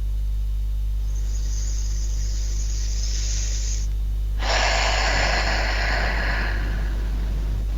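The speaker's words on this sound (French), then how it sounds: "Prends une grande respiration." A deep breath taken during a hypnosis session: a long, airy inhale, a brief pause, then a louder, broader exhale, both close to the microphone over a steady low hum.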